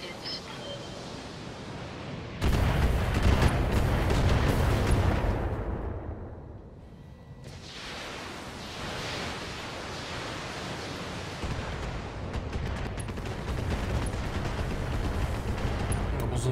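Mech weapons firing in the BattleTech video game: a loud dense barrage of gunfire and blasts erupts, dips into a brief lull, then resumes as sustained rumbling fire with a voice speaking over it.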